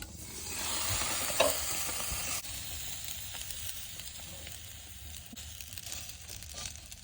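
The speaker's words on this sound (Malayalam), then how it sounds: "ഇനി ഞാനിത് നല്ലപോലെ ഒന്ന് ഇളക്കിയെടുക്കട്ടെ." A spoon stirring steamed plantain uppumavu in a pan, Kerala style, with soft scraping and gentle sizzle, louder in the first seconds then quieter and steady, no talking.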